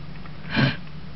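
A single short nasal sniffle from someone with a cold, close and fairly soft, rising briefly around the middle against a quiet background.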